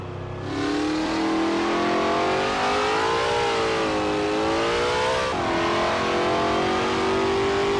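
Race car engines in a racing video game rev loudly and continuously, the pitch climbing and wavering steadily with a brief dip and quick recovery near the end, with no one talking over them.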